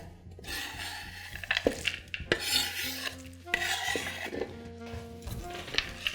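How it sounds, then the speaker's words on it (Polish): A spoon stirs brownie batter with chopped nuts mixed in, giving soft, repeated scrapes and light clinks against the bowl at close range, with no talk. "I teraz posiekane orzechy dodaję do mojej masy i wszystko mieszam za pomocą łyżki."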